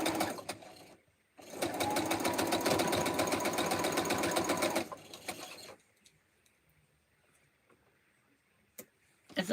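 A sewing machine stitches Double Arrow quilt block pieces in a steady, loud whirring run of about three and a half seconds, preceded by a brief burst and followed by quiet handling noises.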